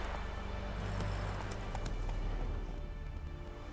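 The horse Roach gallops in The Witcher 3: Wild Hunt, with a rapid steady clatter of hooves over a dense, loud game soundscape, continuous throughout and without talking.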